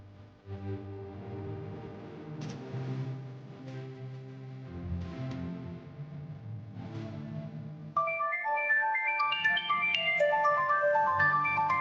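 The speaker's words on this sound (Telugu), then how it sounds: "అమ్మ కాల్ చేస్తుంది." A phone ringtone for an incoming call from mother plays a tuneful electronic melody, first in low warm tones for several bars, then switching to bright high chiming notes, steady and moderately loud.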